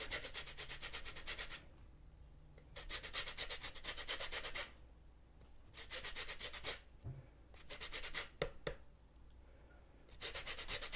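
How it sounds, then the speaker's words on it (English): A whole lemon being zested, heard as several repeated bursts of rough, rasping scraping against the grater, separated by short quiet pauses, close and fairly loud. "I am going to zest this whole lemon"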